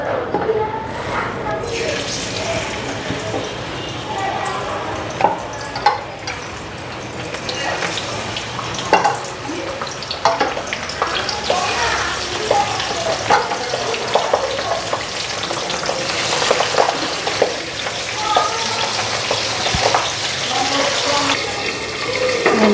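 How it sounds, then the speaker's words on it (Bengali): Fish fries in oil in a wok, a continuous hissing sizzle with occasional clinks, heard under someone talking for much of the time. "আগে মাছগুলি ভাজা বসায় দিয়ে নি।"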